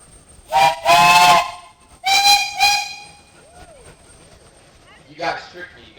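Steam whistle on a steam traction engine in a steam show parade, sounding in two loud bursts with a shorter later toot, crowd noise and talk in between.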